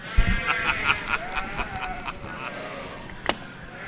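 Yearling ewes at a youth breeding sheep show give several short, close bleats in quick succession, with faint arena chatter behind them.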